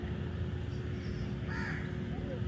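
Crows being fed and flying onto people in Georgetown, with a couple of short caws and a hoarse call over a steady outdoor background hum, heard faint and at a distance.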